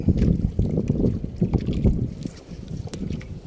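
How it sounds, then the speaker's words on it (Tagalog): Strong gusty wind buffets the microphone in low rumbling bursts while fishing, with faint splashing water underneath and no talking. "Malakas ang hangin ngayon"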